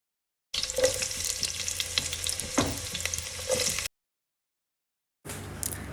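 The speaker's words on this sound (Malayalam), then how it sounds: "അപ്പം ഓയിൽ ഒഴിച്ചു ഇനി ഉള്ളി കൊടുക്കും" Onions fry in oil in a biryani pot, a steady close sizzle with stirring scrapes, cut off briefly before the frying returns.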